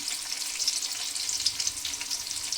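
Chopped tomatoes and tamarind sizzle steadily in a hot pan, a continuous close crackle with faint stirring and no break.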